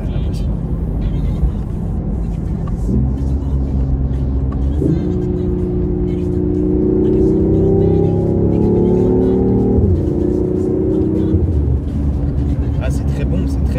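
A BMW i8 hybrid sports car driving with its gearbox in sport mode, its engine hum rising through the gears with audible shifts, steady and close inside the cabin beneath continuous talk.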